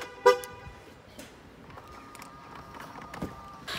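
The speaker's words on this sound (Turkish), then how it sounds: "Bakın benim hayatımda en sevdiğim şeylerden biri şu arabaların açarken ses çıkarması." A car gives a single short horn chirp as it unlocks, followed by quieter clicks and faint background noise.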